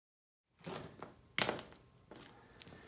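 Bolts drop into the aluminum water pump housing of a Honda BF25A/BF30A outboard, giving a few faint, close metallic clinks and rattles separated by brief pauses.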